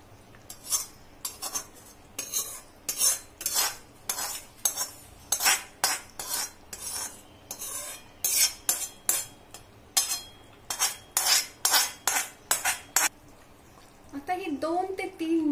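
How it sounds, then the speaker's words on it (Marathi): Metal spoon scraping and clinking against a pan while spicy misal curry (tarri) is stirred, Nashik style, in a rapid series of sharp repeated strokes with short pauses, close and clear, then a brief voice at the end. "आता ही जी तर्री आहे ती त्याच्यावर ओतूया."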